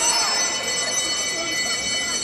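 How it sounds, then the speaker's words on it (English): A continuous bell rings in a velodrome during a Tokyo 2020 track cycling race. It sounds as a steady, bright ringing over loud crowd and arena noise. "The bell."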